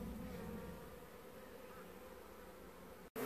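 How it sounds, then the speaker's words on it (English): Honeybees buzz in a steady, dense drone during a hive removal from a mobile home, fairly close and even, with a brief dropout near the end. "I have all the comb and bees reunited with the queen in this medium nuke"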